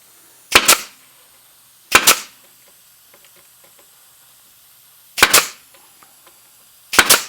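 A staple gun fires staples into plywood for a five-frame beekeeping nuc box, four sharp loud snaps with a hissing tail, spaced apart with quiet handling between.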